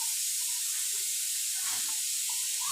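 A pot of mackerel curry with raw mango and ground coconut boils on the stove, giving a continuous close hiss and soft bubbling sizzle with no talking.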